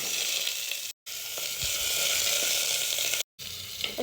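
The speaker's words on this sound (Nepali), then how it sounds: "कुकरमा हल्का घिउ राखेर" Goat leg pieces fry in a little ghee inside a pressure cooker, giving a steady, close hiss and crackle that runs almost without pause, broken only by two brief silent gaps.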